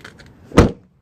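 A car door on an Impala under crash repair is slammed shut once, a single solid thunk following a few faint clicks, close and fairly loud.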